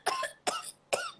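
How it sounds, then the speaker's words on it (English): A person gives three sharp, explosive coughs in quick succession, each a loud harsh burst about half a second apart, heard up close with no talking. "Continuous cough."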